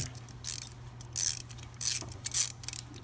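A hand ratchet clicks in short, quick bursts, close and fairly quiet, as it backs off a 10 millimeter bolt on a coil pack of a Volkswagen Jetta A6 1.8 TSI engine.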